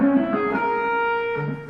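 Distorted electric guitar notes ring out in a quick sequenced run, sustained and overlapping with a fuzzy, effects-heavy tone.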